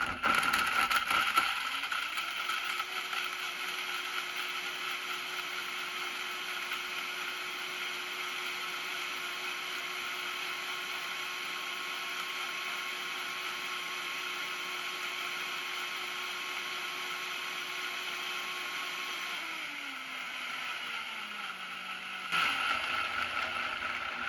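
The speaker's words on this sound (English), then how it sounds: "It's going to be loud for just a second, but we're going to start it off on low, rev it up to high, make sure everything's well blended" A Vitamix blender blends a strawberry pecan spinach salad dressing, starting low, revving up to a loud steady high whine for most of the clip and then winding back down near the end, with no talking over it.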